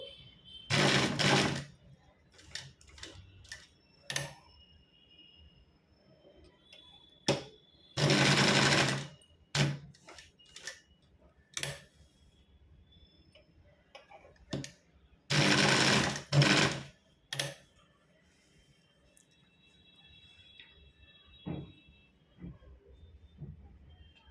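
An electric sewing machine stitching a hip belt runs in short loud bursts separated by pauses, with clicks and handling sounds between runs.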